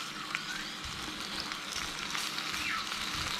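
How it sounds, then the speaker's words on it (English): Several bacon slices frying in a pan over medium heat, giving a steady, continuous crackling sizzle at close range with no talking. "so I've just got a bit of a few slices of my bacon going here."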